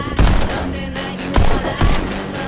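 Loud, punchy pistol shots from the VR shooting game Pistol Whip, three sharp bursts spaced about half a second to a second apart, ringing out over a steady, thumping game soundtrack.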